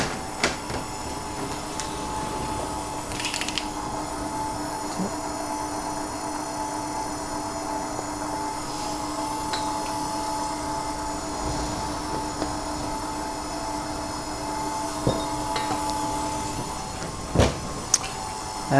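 An electric mixer runs steadily, a constant mechanical whir and hum as it mixes gluten-free pizza dough made with xanthan gum, with a few clinks and knocks now and then.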